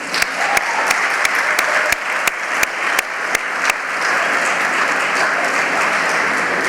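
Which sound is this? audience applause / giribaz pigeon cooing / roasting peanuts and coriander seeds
audience applause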